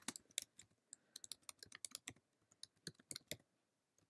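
Quiet, close keystrokes on a computer keyboard come in uneven bursts of clicky taps with short pauses, typing Arabic text in a design program, no voice.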